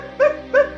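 Two short, loud dog barks from the Pug-a-pillar creature in the Poppy Playtime game, evenly spaced and close, with nothing else between them.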